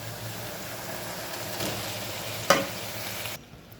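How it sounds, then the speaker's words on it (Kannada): Boiled sweet potato pieces, drained of water, go into a hot tempering in a pan, giving a steady close sizzle with stirring, a sharp clatter as they drop in, then a quieter fade. "ಇದನ್ನು ಒಗ್ಗರಣೆಗೆ ಹಾಕೊಳ್ಳೋಣ ನೀರು ಬೇಡ ಬರೀ ಪೀಸ್ಗಳನ್ನ ಹೀಗೆ ಹಾಕೊಂಡ್ರೆ ಸಾಕು"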